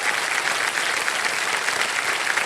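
Studio audience of a television quiz show (KBC) breaking into loud, sustained applause, dense clapping that fills the whole moment without talk.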